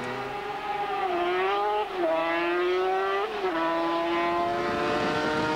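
A racing sidecar motorcycle screams past at speed, its high engine note climbing and then dropping sharply several times through gear changes, loud and close with no talk.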